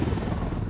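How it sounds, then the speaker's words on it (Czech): A helicopter in the video game Ghost Recon Wildlands makes a steady, dense rotor and engine roar that fills the short moment without a break. "Co děje s tím vrtulníkem od?"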